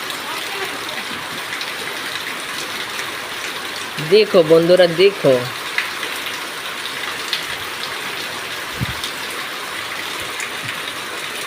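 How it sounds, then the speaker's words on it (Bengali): Heavy rain falls steadily in a rural yard where ducks are kept, a constant loud hiss that runs throughout while someone speaks briefly in the middle. "বৃষ্টি আরো জোরে নামছে"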